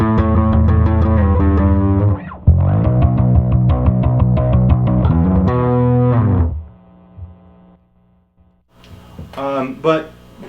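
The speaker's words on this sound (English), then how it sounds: "Occasionally I'll stack the B3K and the Voyager," Electric guitar played through stacked B3K and Voyager overdrive pedals, chords ringing loud and gritty for about six seconds, then a few quieter notes after a near-silent gap.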